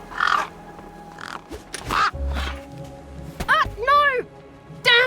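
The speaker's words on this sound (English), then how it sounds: "Damn birds!" Crows caw harshly several times in quick succession, loud and close, with voices talking around and between the calls.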